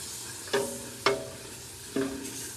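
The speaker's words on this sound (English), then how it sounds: "Now we're going to stir." A spoon stirs chowder in a cooking pot just after a splash of cognac has gone in. Three distinct scraping clinks come at uneven intervals over a soft background sizzle, with no talking.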